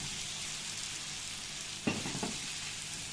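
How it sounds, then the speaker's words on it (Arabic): Sausage dropped into a pan of sizzling tomato sauce with curry and spices, a steady frying hiss with a sudden louder sizzle burst and a second smaller one as the meat hits the pan. "هننزل بالسجق"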